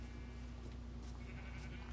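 Sheep bleating inside a sheep pen in a video game, soft and steady against a constant low hum of game ambience, with no talking.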